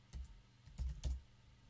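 A few soft taps on a computer keyboard while typing a message in Slack, three or four quiet clicks in an irregular rhythm, close by, with no talking.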